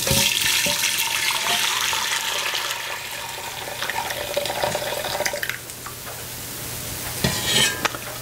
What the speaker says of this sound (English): pour it up in a fine strainer